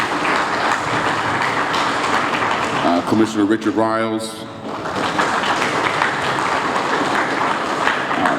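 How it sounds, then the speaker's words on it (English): An audience at a fire station opening celebration breaks into sustained applause, briefly dipping while someone speaks over it, then swelling again to a steady clapping wash. "they certainly deserve a round of applause"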